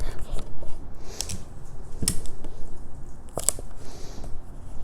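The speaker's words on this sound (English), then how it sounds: "So, take my Scotch tape" Scotch tape pulled and torn by hand while joining the ends of an accordion tag album, giving a few sharp, close ripping and tearing bursts with quieter handling noise in between and no speech.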